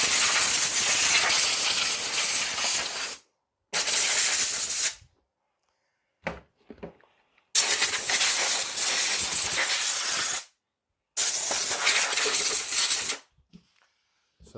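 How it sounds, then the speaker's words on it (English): An air compressor at about 100 psi blasts loose sand out of an ARRMA RC car after a beach run: four long, loud, hissing bursts a few seconds each, separated by silence with faint clicks and rattles between. "I have an air compressor that has about 100 psi."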